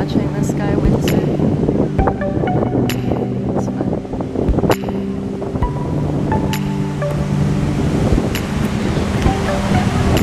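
Waves wash in steadily at a beach where windsurfers are out, with a continuous rushing surf mixed with wind buffeting the microphone and faint scattered background sounds.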